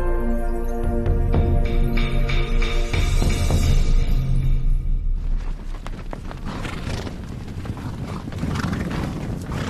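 Horses in Mongolia give out neighing whinnies and hoof sounds over a busy, rumbling background, and the sound stays loud and dense the whole time with no voices.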